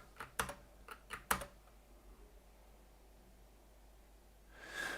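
A few quick keystrokes clatter on a computer keyboard, close and crisp in a short irregular burst, then quiet room tone and a soft breath or exhale at the end.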